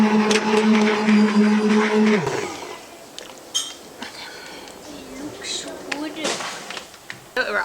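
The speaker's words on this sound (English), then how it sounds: "I'm going to stick the immersion blender in it and get it mixed up now." An immersion blender whirs steadily through cooked apples for about two seconds, a loud buzzing motor tone with harmonics that stops abruptly, followed by quieter clinks and kitchen handling sounds.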